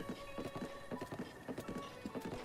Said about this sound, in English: See this horse? This horse is moving.